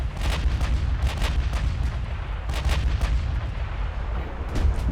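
Naval artillery in the warship game Ultimate Admiral: Dreadnoughts, a rapid series of heavy gun blasts and booming impacts in irregular bursts, loud and close, with a deep rumble lingering between shots.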